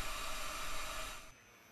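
A hissing air release from a train brake valve in the SimRail simulator, as the driver moves the brake handle aboard an EN57 electric multiple unit; a steady broadband hiss that drops off sharply near the end.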